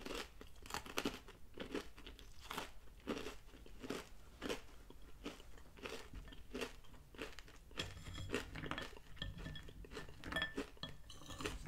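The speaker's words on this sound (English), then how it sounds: "there's a lot of crunch to here." Steady, close crunching and chewing of Kellogg's Cracklin' Oat Bran cereal with milk, rhythmic bites with occasional clinks of a spoon against the dish, no talking.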